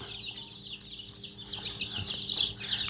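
Native Thai chicks cheep in a continuous high chorus, a flock of around thirty young birds with adult hens clucking underneath, close and busy, brightening toward the end.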